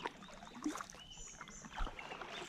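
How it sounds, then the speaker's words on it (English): Soft water sloshing and dipping from canoe paddling back to a boat launch, with irregular splashes and a couple of louder strokes near the start and end. "we're going to paddle our way back to the boat launch"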